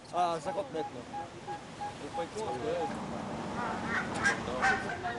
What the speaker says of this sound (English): Maybe they've tagged on to a migrating flock of geese.